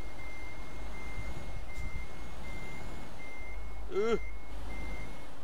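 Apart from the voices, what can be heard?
truck reversing beeps in Euro Truck Simulator 2 video game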